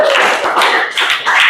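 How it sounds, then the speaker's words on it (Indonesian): A morning assembly group in Indonesia claps together in a brief, dense burst of applause, steady and close with slight swells across its length. "tepuk tangan buat kita semua"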